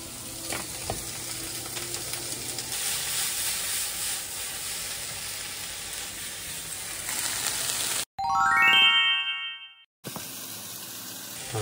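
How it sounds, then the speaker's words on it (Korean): Food stir-fried in a hot pan, a steady loud sizzle with stirring scrapes, broken near the end by a brief electronic chime and a short gap before the sizzling returns. "이런 식으로 저는 볶아 먹어요."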